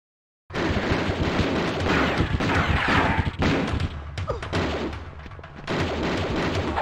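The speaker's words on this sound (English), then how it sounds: "Who is getting me with the automatic fire?" Rapid bursts of automatic gunfire and heavy impacts in Tomb Raider II: The Golden Mask on PC, loud and dense after a silent start, continuing in clustered volleys with a brief lull midway.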